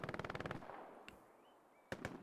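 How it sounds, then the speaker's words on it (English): Machine gun fire in the World War II shooter Hell Let Loose, a rapid rattling burst up front that fades, then a few sharper shots later, heard alone without talk. "And just hear the distant MGing down there below."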